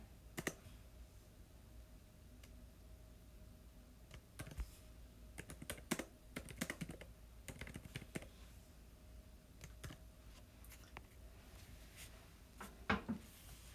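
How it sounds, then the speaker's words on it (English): Typing on a computer keyboard, a steady run of quiet, close key clicks with irregular bursts and pauses, heard alone with no talking. "Not used to this keyboard."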